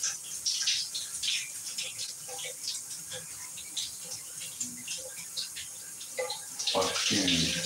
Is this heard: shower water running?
yes